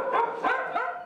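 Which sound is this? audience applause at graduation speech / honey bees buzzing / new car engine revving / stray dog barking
stray dog barking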